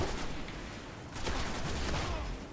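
Rapid weapon fire from the video game Destiny rattles on in dense, loud bursts, with a short lull near the middle before another heavy volley.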